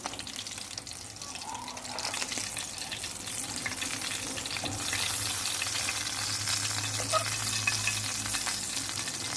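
Boneless galunggong fish frying in a pan, a steady close hiss with crackling spatter that thickens partway through, continuous and fairly loud.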